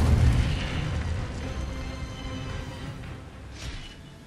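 Incendio fire spell in a Harry Potter video game, a loud whooshing burst at the start that fades into a crackling, roaring rumble with a faint later flare.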